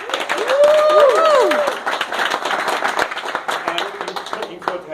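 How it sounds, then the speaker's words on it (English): An audience claps warmly, the dense applause running steadily throughout. Cheers and whoops rise above it early on. "We have to give Alex and Alexei an extra round of applause for coming all that way from here."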